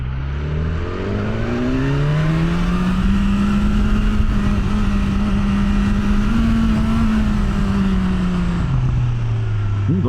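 A 2025 BMW S1000R motorcycle, ridden on a British road, gives a loud, close engine drone that rises and falls as the throttle closes, with crackly overrun on deceleration.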